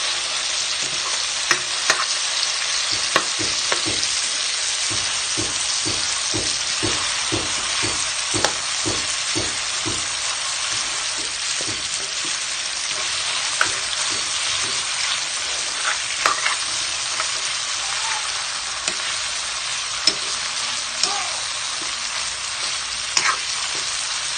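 Burong isda, fermented rice and fish, is stirred in a sizzling pan; a continuous frying hiss runs under a rhythmic series of spoon scrapes and taps, with occasional louder clanks.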